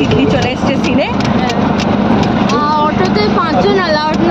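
An auto rickshaw engine chugging steadily during a ride through Kolkata streets, a close, continuous low rumble with road noise, while passengers talk over it.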